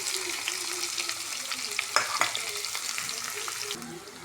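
Onion frying in hot oil with bay leaves and cinnamon for veg pulao, a dense continuous sizzle with a few stirring scrapes, close and steady with no voices.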